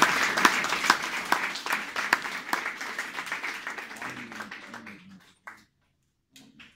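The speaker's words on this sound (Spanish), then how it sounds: "Denle un aplauso al Señor" A church congregation claps for the Lord, a close burst of scattered hand claps that thins out and stops, followed by a brief murmur of voices and a few stray sounds.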